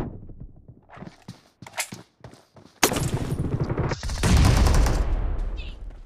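Gunfire in the video game BGMI: a few scattered sharp shots at first, then a sudden loud blast followed by sustained rapid fire and heavy rumbling bursts, close and intense.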